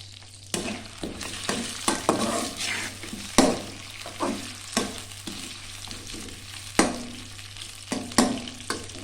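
Bhindi gosht fries in a pan over medium heat, a close sizzle broken by repeated sharp scraping strokes of stirring every second or so, with no voices.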